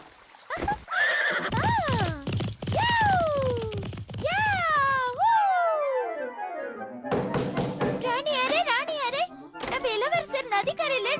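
A horse neighs and whinnies loudly several times in a row, each call a falling, wavering cry, with hoof thuds early on and high, excited squeals and shouts following near the end.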